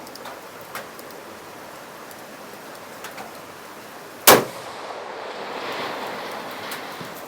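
Single sharp PRS rifle shot fired at a 10-inch steel target 700 yards away, a loud crack in the middle followed by a fading outdoor rumble over steady wind.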